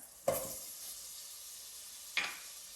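Butter melts in a heated pan with a faint, even hiss, broken by two short, sharper sizzling bursts a couple of seconds apart, quiet and with no voices.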